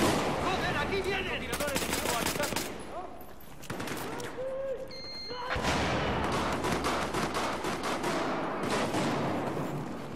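Rapid bursts of Battlefield 4 gunfire crackle in dense volleys, pausing briefly between salvos, with a voice talking in Spanish underneath the shooting.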